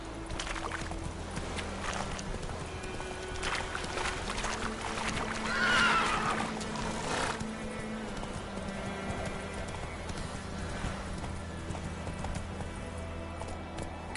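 Roach, Geralt's horse in The Witcher, gallops with steady clip-clop hoofbeats over a continuous low ambient bed, a brief whinny rising partway through, no talking.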